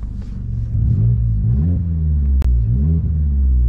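A Vauxhall Corsa fitted with a throttle controller revs hard under full throttle, its engine rumbling loud and close with rising and falling pitch sweeps, broken by one sharp click partway through.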